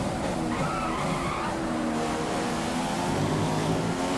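A Formula 1 car in F1 2015 sliding wide under oversteer, with a continuous loud tire skid and engine roar filling the whole stretch, steady and close without any voice.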